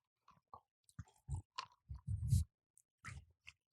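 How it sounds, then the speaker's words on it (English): Ice from a bourbon and Coke being chewed close to the microphone, about a dozen crisp crunches and bites in an irregular rhythm, loudest in the middle, with no talking. "I'm chewing on the ice."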